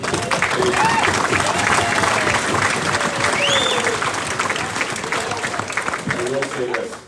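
Sustained applause from a banquet audience honoring junior hockey players, loud dense clapping throughout with voices and a few whistles mixed in, tapering slightly at the end.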